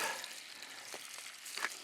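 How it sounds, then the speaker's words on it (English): Soft, steady sizzling of food frying in a pan, a thin crackling hiss with a few brief louder pops. "Nice and sizzling."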